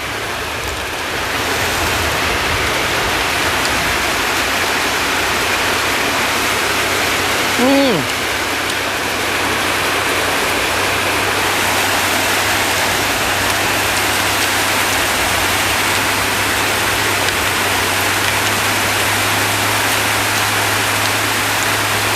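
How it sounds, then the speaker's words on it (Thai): Heavy rain falls steadily outside as a dense, continuous hiss, with a brief vocal sound partway through and low talk faintly beneath the downpour. "ฝนตกนี่นะออกข้างนอกไม่ได้"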